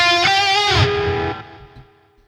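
Double-tracked lead guitar line in a rock mix, widened with a stereo ambience effect; sustained bright notes with a downward slide, then a fading reverberant tail, heard alone.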